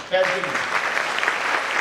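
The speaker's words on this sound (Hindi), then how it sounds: "तालियां भाई साहब प्लीज।" An audience at a network-marketing achievers' event breaks into applause, a dense, steady clapping that swells in after a brief voice at the start and carries on evenly.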